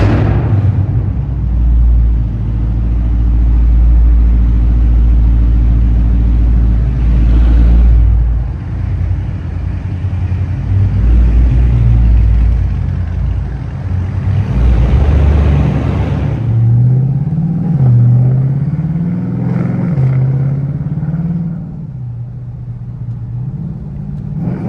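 A burble-tuned Mopar car rumbles loudly from inside the cabin while driving, its deep exhaust drone rising and falling with the throttle and a few sharper bursts as it eases off.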